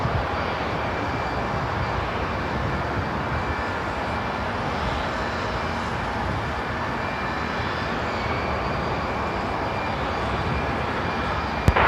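A heavy jet aircraft at Seattle-Tacoma International Airport roars steadily as a broad, continuous engine rumble and whine, loud and sustained throughout with no voices over it.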